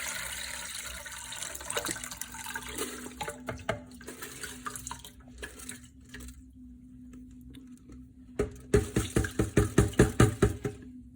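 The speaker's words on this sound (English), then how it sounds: "We're going to slowly pour in our container full of water, rice, and cinnamon sticks." Water mixed with rice and cinnamon sticks is slowly poured from a container, a continuous splashing trickle that thins out and pauses, then ends in a series of rhythmic glugs and splashes, close and without talking.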